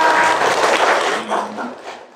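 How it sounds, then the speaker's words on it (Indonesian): Classroom applause from students during a career-planning lesson, a dense burst of clapping that swells briefly and then thins out and fades within a couple of seconds. "Tepuk tangan buat Alia"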